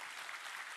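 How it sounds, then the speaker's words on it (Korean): A church congregation applauds, a dense steady patter of clapping filling a brief moment without pause. "뜨거운 박수 부탁드립니다"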